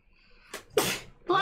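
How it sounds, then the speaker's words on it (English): A single sharp human sneeze bursts out at close range, followed by a brief vocal sound, in a quiet indoor room during a tabletop role-playing game session. "You sneezed?"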